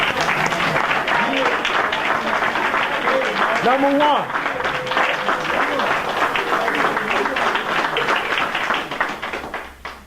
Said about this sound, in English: You ought to clap up.